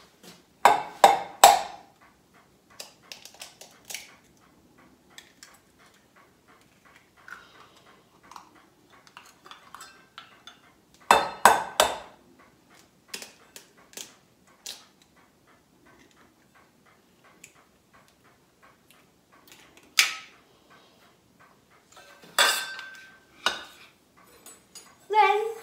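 Eggs are whisked in a bowl with clustered bursts of rapid, close clinking taps, separated by quiet gaps and scattered lighter ticks, with no one talking during it.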